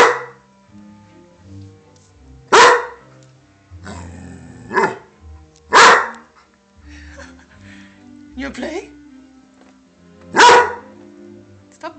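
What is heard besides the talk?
dog barking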